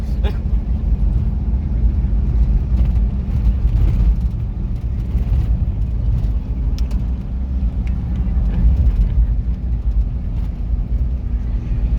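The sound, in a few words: Toyota Hilux truck driving at speed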